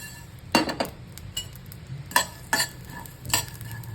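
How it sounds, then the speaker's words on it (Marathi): Mustard seeds and cinnamon crackling in a hot pan, a faint background sizzle broken by a few sharp pops and clinks in short clusters, heard up close with no talk. "लगेच मोहरी लगेच होते फुलते चांगली चटकायला लागले"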